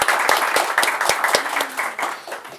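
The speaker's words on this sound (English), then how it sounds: "I have to once again give a clap for this man." A burst of audience applause, dense clapping from a crowd with a few sharp, distinct claps standing out, steady for a couple of seconds.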